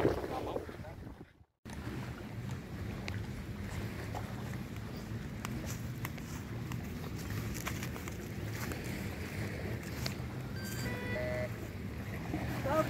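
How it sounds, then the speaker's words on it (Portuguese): Strong wind blows across Ilha das Cobras, an island, as a steady, rough broadband rush that continues almost without a break for the whole stretch, apart from a brief dropout near the start. "E tá ventando bastante."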